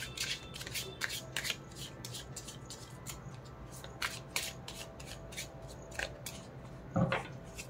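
Tarot cards being shuffled by hand, a steady run of soft papery riffles and slides close up in a quiet room, with one louder rustle near the end.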